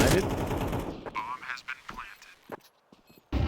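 Rapid automatic gunfire from a Counter-Strike match, a dense burst of shots at the start followed by sparser cracks and distant pops, with a sharp burst returning at the end and a caster's voice over the top.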